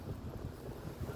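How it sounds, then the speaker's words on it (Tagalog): Wind blows across a microphone outdoors during a walk, a steady low buffeting rumble with a soft hiss, continuous and fairly quiet with no voices. "Mahangin, guys, kita nyo."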